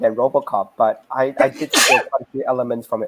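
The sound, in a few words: sneeze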